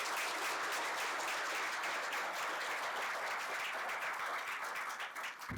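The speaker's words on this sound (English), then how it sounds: "Let's give them a round of applause as well," A crowd at a university alumni awards ceremony during homecoming weekend applauds in a dense, sustained wave of clapping that stays even throughout and fades slightly at the end.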